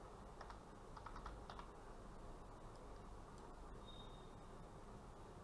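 Quiet typing on a computer keyboard, a few soft clustered keystrokes tapping at close range over a faint steady background hum.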